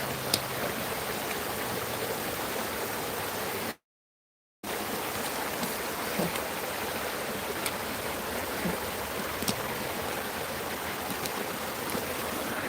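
McMillan Creek water flows in a steady, soft rush with a brief silent break, and no voices.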